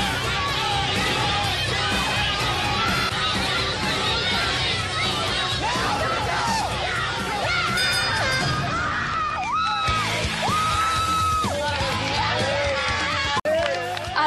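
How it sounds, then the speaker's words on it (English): A crowd screaming and cheering, with shrill yells rising and falling over a constant roar of voices, loud and continuous throughout. "the whole house except for Johnny Bananas, like screaming and cheering."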